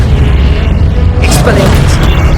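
A Glacius ice spell going off in Hogwarts Legacy, a loud booming burst with crackling, mechanical texture over a constant rumble of battle and game sound.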